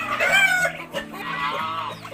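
Geese honk and cackle loudly nearby in a backyard farm, several overlapping calls in a noisy farmyard clamor.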